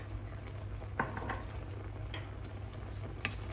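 A spoon stirs chicken and olive rice in a pot, with a few soft scrapes and clicks over a low, steady sizzle, heard faintly and without any talk.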